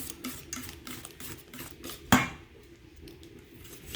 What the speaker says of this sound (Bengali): এই যে কেক বানানো এটা, দিয়ে ভালো করে মিক্স করতে হবে।